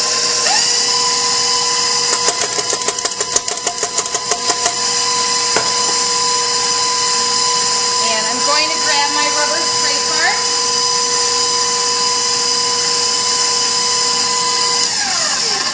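A KitchenAid stand mixer runs on low while eggs are mixed into creamed shortening and sugar, a steady high whirring motor drone with brief clattering bursts from the beater and bowl, close and continuous.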